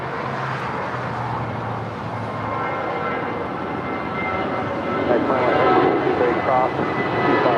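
A JetBlue Airways jet departs from runway 25 right at LAX, bound for San Francisco, its engine roar broad and steady and swelling louder toward the end, with a voice talking over it at times.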